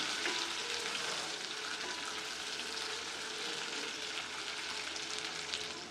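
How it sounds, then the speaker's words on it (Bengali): Onions sizzling in hot mustard oil in a pan with bay leaf, cinnamon and salt, a steady, even frying hiss throughout. "এখন একটা প্যানের মধ্যে তেল গরম করে এর মধ্যে আমি পেঁয়াজ দিয়ে নিচ্ছি।"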